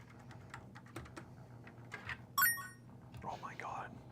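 Quick light clicking of a computer keyboard at a gaming PC setup, faint and rapid taps under nearby talk and background hum, with a short electronic chime in the middle.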